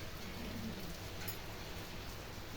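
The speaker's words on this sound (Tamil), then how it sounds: "அழகாக மழை தண்ணி போகுது" Steady rain pours down outdoors with rainwater running along the ground, a dense, even wash of hiss and patter with no breaks, fairly soft and close.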